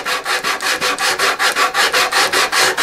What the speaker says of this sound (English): And I take some 80 grit sandpaper on a flat block and just